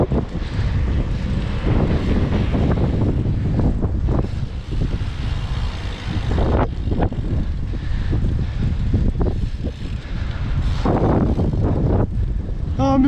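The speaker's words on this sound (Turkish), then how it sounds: "Rüzgar işi baya tatsız." Heavy wind buffets the microphone of a BMX rider pedalling uphill into a headwind on city streets, a constant loud roaring rumble with gusty swells throughout, nothing else clearly audible.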